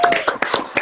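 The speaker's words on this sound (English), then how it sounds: "Round of applause." Brief burst of clapping from a small group on a family game-show set, dense overlapping hand claps for under a second with some voices mixed in.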